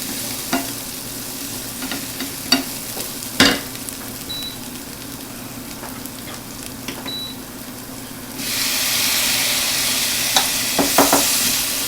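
Shallots sautéing in a pan for chicken Florentine, a steady close sizzle with occasional spoon taps and stirs, rising to a louder, fuller hiss near the end.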